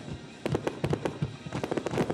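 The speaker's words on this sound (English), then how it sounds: "the common sound of fireworks erupting into the sky" Fourth of July fireworks erupting into the sky, a rapid irregular string of sharp cracks and pops over a rumbling background, loud and dense with no voices.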